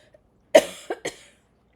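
Three short coughs close up in quick succession, the first strongest, in an otherwise quiet room.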